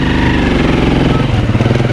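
A loud Rusi motorcycle engine revving and running steadily close by, with a rough pulsing drone throughout.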